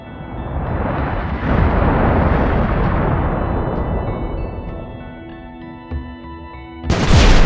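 Big Bang explosion sound effect, a huge deep rumbling boom that swells and slowly fades over several seconds, followed by a sharp bright burst near the end.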